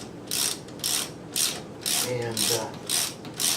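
A ratchet backs a reamer out of a spark plug hole in a Honda Odyssey engine, giving a close, evenly spaced series of about seven loud clicking bursts; a brief voice is heard partway through.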